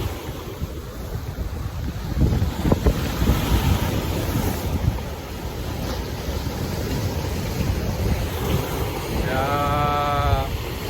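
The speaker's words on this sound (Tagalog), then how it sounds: "grabe ang ampas ng alon" Heavy surf rolling and crashing during a typhoon in Romblon, Philippines, amid gusty wind buffeting the microphone, with a brief higher whine near the end.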